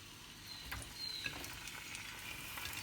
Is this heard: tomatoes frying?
yes